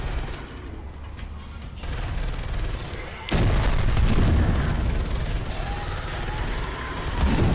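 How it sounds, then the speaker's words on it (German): Monsters hammer against a door in Space Hulk Deathwing, heavy booming impacts that swell suddenly into a loud, sustained barrage of thuds and crashes. "Was die immer gegen die Tür hämmern."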